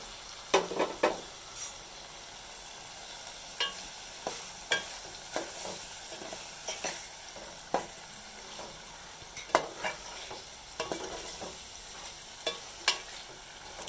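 Masala with onion and ginger-garlic paste frying in a pan for aloo matar, stirred with repeated sharp scraping clicks over a low, steady sizzle, with no talking.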